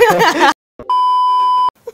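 A phone call notification during a podcast recording: a single clear, loud electronic beep tone held for nearly a second, coming right after a burst of talking.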